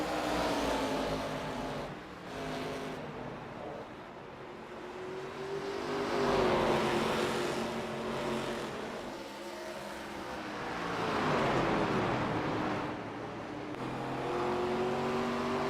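Race cars roar around the Five Flags Speedway oval in an ARCA Series video game race, a steady engine drone with pitch rising and falling as cars accelerate and lift, close and continuous throughout.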